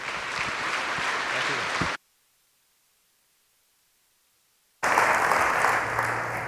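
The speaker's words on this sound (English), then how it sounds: "let's give him a big round of applause." An audience at Monitorama 2017, a tech conference, gives a round of applause for a speaker named Ben. Dense, hissy clapping fills the room in two bursts separated by a sudden dead-silent gap.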